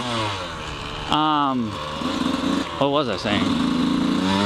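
A two-stroke engine revs in two short rising bursts, its whine sweeping up and falling back, while someone talks over it.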